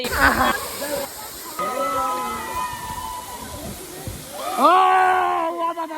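Water splashes and rushes steadily at the Kapildhar waterfall, a loud, broad hiss that continues throughout, while people talk and call out over the noise.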